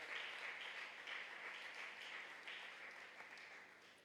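A church congregation applauds during a French-language Easter service, a soft, diffuse wash of clapping heard from a distance that holds steady throughout and thins slightly toward the end.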